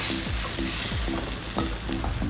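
Oil in a heated frying pan gives a close, steady sizzling hiss, with short crackling pops and scrapes recurring every half second or so.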